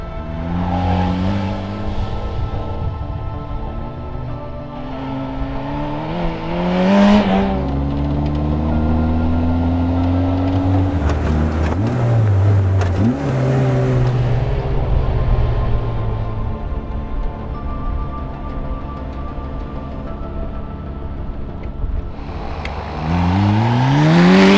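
Ariel Atom 3S sports car accelerating hard on a track during performance testing, its engine revving loudly through rising sweeps with gear changes, continuous and close with no talking.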